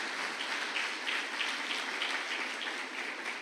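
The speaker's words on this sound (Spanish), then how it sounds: "un aplauso a Dios." Congregation applauding in a church service, a dense, even rattle of many hands clapping at moderate distance, sustained without a break and with no talking over it.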